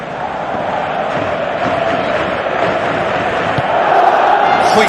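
A large stadium crowd in the football video game PES 2017, Barcelona against Paris Saint-Germain, roars as a continuous mass of voices that swells louder toward the end.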